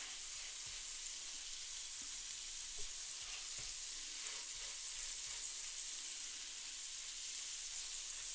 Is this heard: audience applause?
no